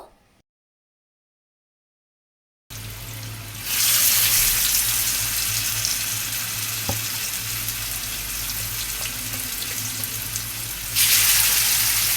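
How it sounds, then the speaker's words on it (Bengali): Marinated chicken frying in a pan over medium heat gives a steady, close sizzle that swells after a short silence and holds for several seconds, with a brief spike midway and no talking. "এখন আমি চুলার তাপটাকে মিডিয়াম রেখে মাংসগুলোকে ভালোভাবে ফ্রাই করে নেব"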